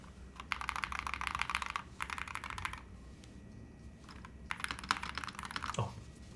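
Typing on a Holy60 keyboard fitted with Awekeys metal keycaps and foam, two bursts of rapid clacky keystrokes separated by a quieter gap, close and crisp.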